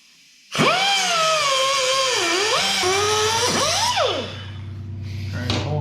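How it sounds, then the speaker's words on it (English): A loud, whining power tool grinds steadily through a rusted bolt on a 1997 Jeep Wrangler TJ body mount, its pitch sagging and recovering under load, then winds down to a lower hum before revving again. "I'm going to cut this off and apologize about the noise in advance."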